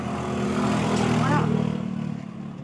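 A Cummins D10 diesel engine in a Howo tractor head revs and idles steadily nearby, its low rumble continuous throughout while people talk over it.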